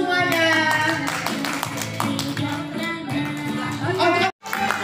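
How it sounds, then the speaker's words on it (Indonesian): Clapping from participants in a classroom teacher-training session, a steady patter of hands over music and background chatter, cut by a brief silence near the end. "tepuk tangan untuk semuanya."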